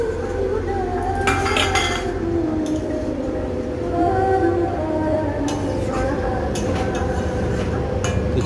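A metal spoon scrapes and clinks against a cooking pot while fish is stirred, with irregular taps and rattles over a steady kitchen background hum.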